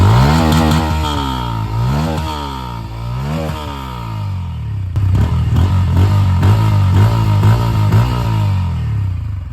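A Bajaj Pulsar N160 motorcycle engine, loud and close, revving repeatedly in rising and falling sweeps, then settling into a rougher, pulsing idle with quick throttle blips.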